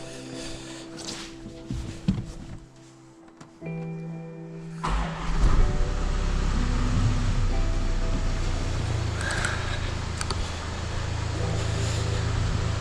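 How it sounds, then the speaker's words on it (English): Range Rover Evoque diesel engine, with an exhaust fluid dosing fault, starts up after a quiet stretch and then idles loudly and steadily in a workshop, a close droning rumble. "ensure that the engine is running"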